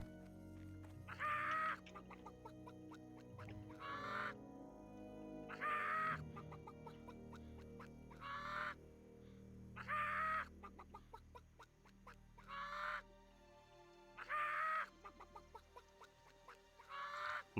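A chicken in World of Warcraft Classic clucks in short repeated bursts spaced a couple of seconds apart, with quieter game ambience and faint tones between the calls.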